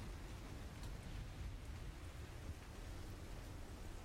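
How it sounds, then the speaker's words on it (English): Steady rain hissing over a low, rumbling wash, like a distant thunderstorm, with no voices present. "stormy and raining."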